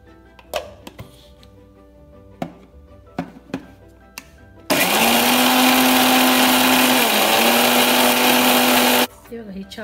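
A kitchen mixer grinder blends spinach stalks into a paste, starting abruptly with a loud, steady whirring roar that holds for about four seconds, then cuts off. Light knocks and handling clatter come before and after.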